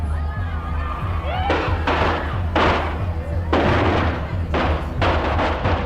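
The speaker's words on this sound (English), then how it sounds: "What sounded like shots turned out to be Chinese firecrackers." Chinese firecrackers bursting at an outdoor political campaign event for a presidential candidate, a series of sharp broadband cracks like gunshots at irregular intervals over a steady crowd murmur.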